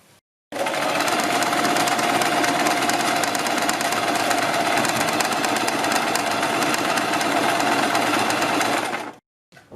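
A sewing machine stitches a neck design along the edge of buckram, running in one steady, loud, continuous mechanical whir for about eight seconds before stopping abruptly.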